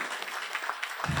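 Scattered clapping rises from an audience at a stage birthday celebration during a singing show, a short, moderately faint burst of applause that grows slightly toward the end.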